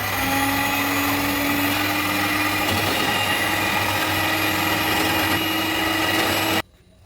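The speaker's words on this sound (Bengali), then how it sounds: "এইবার একটু ব্লেন্ডার দিয়ে আমি ব্লেন্ড করে দেবো।" A blender whirs through kesar badam thandai, a saffron-almond drink, running loud and steady for about six and a half seconds before cutting off abruptly.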